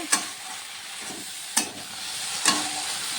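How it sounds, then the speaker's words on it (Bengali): Lady's finger (okra) sautéing in a pan over a steady hiss of frying, broken by three sharp spatula scrapes spaced about a second apart, close and clear with no talking. "আর একটু কষাই"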